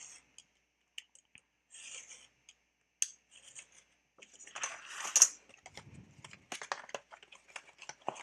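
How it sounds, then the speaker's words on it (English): Chipboard for a bookbinding case cut with short snips and scrapes of a blade, scattered bursts of cutting and rustling handling noise, close and quiet with no speech. "we're going to cut this bottom part out right here"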